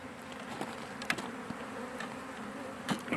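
A hived bee swarm hums in a soft, constant drone close by, with a few brief louder buzzes and faint knocks passing over it and no voices.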